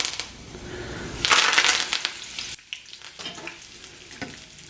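Curry leaves crackle and sizzle in hot oil, bursting loudly at first and then settling into a quieter, spattering fry, with occasional stirring clicks.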